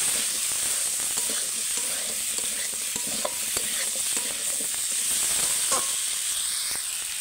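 Pumpkin, potato and chickpea curry stir-fried in hot oil with spices, a continuous close sizzle with scattered scraping stirs of the spoon in the pan.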